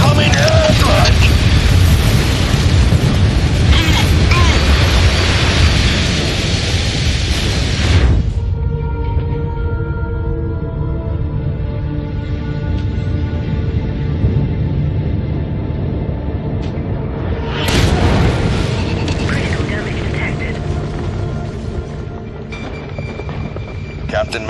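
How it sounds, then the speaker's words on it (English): Airstrike in MechWarrior 5: Mercenaries: a long, dense roar of explosions at first, then a quieter mechanical hum, then another burst of blasts, all loud and close. "Incoming airstrike!"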